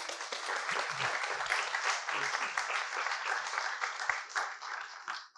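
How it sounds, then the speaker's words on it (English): An audience at a talk on Indigenous religious traditions and law applauds Dusty Hosley, producing dense, sustained clapping from many hands that continues steadily before tapering off at the end. "Please give Dusty Hosley a round of applause"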